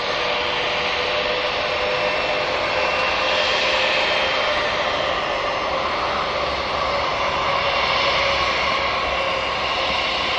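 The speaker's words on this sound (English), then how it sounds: "this is the British Airways going." A British Airways jet takes off from Newcastle Airport, its engines producing a loud, steady roaring hiss with a whining tone, sustained and undiminished throughout with no talk.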